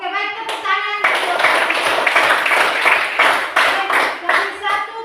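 A school class clapping their hands together during a maths lesson, a loud burst of many hands lasting several seconds, with a teacher's voice briefly before and after.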